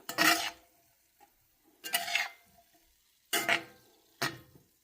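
A pot of veg biryani topped with chopped cilantro and mint gets mixed with a spoon. Four separate close scraping strokes are spaced by quiet pauses, with no talking.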